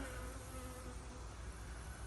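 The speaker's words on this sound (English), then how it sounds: "There's a lot of bees in there" Honeybees swarm around an apiary beehive in a dense, steady buzzing drone, close and unbroken, with no talking.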